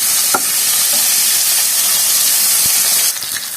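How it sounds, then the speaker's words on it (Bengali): Rohu fish pieces fry in hot oil in a frying pan with a loud, continuous sizzle and hiss. A couple of brief clinks sound from turning the fish, and the sizzling eases slightly near the end. "এই যে মাছটা আমার এক সাইড ভাজা হয়ে গেছে, এখন আমি উল্টে নেব সবগুলো মাছ"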